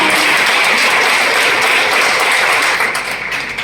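A hall audience at a business leaders' event in Vashi applauds a mentor, a dense, steady wash of clapping that fills the room and thins slightly toward the end.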